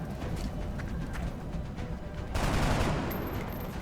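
Gunshots in the turn-based strategy game XCOM: Enemy Within, a run of rapid reports over a busy, noisy background, growing louder and denser in the second half.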